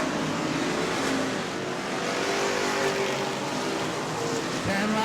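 Race cars roaring continuously around a Friday-night short track at Auburndale, a loud dense engine drone with passing cars swelling and fading.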